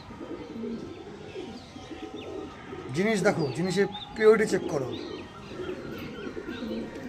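Andhra Star Kalanka pigeons coo softly in the background while someone talks over them, with a brief flutter of movement midway.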